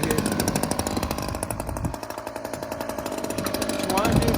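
A hedge trimmer runs continuously with a loud, rapid, pulsing chatter, close and steady throughout, with a brief dip in level midway.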